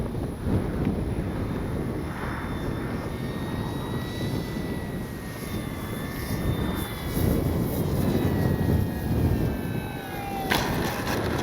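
A radio-controlled FMS PC-21 Pilatus model airplane drones steadily overhead, its engine whine rising and falling in pitch as it passes, with gusty wind rumbling across the microphone.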